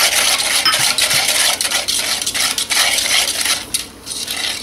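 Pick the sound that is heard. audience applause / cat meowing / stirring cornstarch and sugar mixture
stirring cornstarch and sugar mixture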